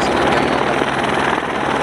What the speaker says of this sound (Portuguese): O helicóptero aqui está se posicionando.